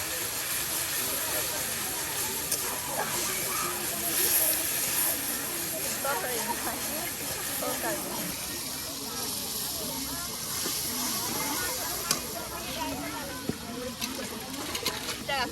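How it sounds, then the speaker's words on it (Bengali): Spice paste with chili powder sizzling and hissing as it is sautéed over a cooking fire, a steady crackling hiss continuing throughout under a speaking voice. "সব কিছু একসাথে দিয়ে আপনার এখন মশলাটা কষানো হচ্ছে"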